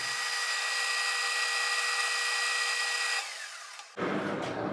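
A drill bores into a fuel T part held in a lathe chuck, producing a steady, loud, grinding whir for about three seconds. It then eases off and gives way to a rougher, lower rumble.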